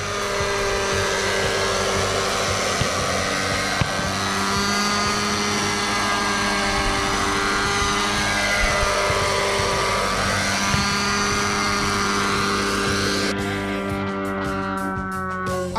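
A nitro RC Jet Ranger helicopter with Raptor 50 V2 mechanics flies nearby, its engine a loud, continuous whine whose rotor hum rises and falls steadily throughout.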